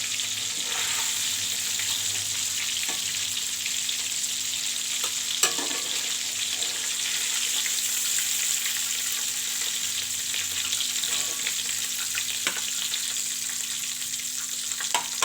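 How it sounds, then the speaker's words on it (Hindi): Fish pieces fry gently in hot oil in a pan for a masala fish curry, with a steady, close sizzle and occasional faint clicks of a utensil, and no one talking. "उनको भी ऐसे हल्का सा फ्राई कर लेंगे।"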